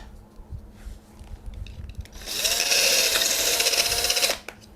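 A power tool whirs up and grinds steadily for about two seconds through a metal tube, a loud high-pitched cutting whine that stops abruptly, with quiet clatter before it.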